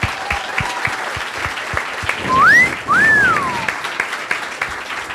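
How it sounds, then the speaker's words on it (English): Audience applause at the Nerd HQ 2011 charity event: a steady wash of clapping from a crowd with a couple of whistles rising over it, lasting several seconds. "how about a round of applause for them?"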